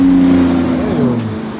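A Ferrari 812 engine revs loudly on a Zurich street, a close, strong roar that climbs and eases through one continuous surge lasting under two seconds.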